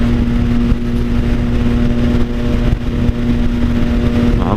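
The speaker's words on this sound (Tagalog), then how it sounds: "pero grabe tumunog yung tambutso natin" A Triumph Sport 660 motorcycle fitted with an Orion exhaust revs loudly close by, its engine drone steady and strong with slight dips in throttle, no talking over it.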